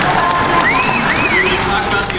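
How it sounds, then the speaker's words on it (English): Audience at a Comic-Con panel for Friday the 13th applauding and cheering, a dense crowd wash with a high whoop rising over the clapping and voices mixed into it. "pausing for applause now"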